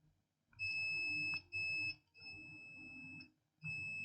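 A multimeter in continuity mode beeps while probing the MOSFETs on a dead Dell XPS 15 9530 laptop board, with steady high tones starting and stopping in several bursts of uneven length, close and clear, with no voices.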